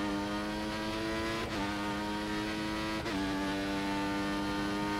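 Formula One race car engine in the F1 2014 game at the Red Bull Ring, a steady high-pitched whine that briefly dips twice as the driver shifts down through the gears manually, loud and continuous, with no talk.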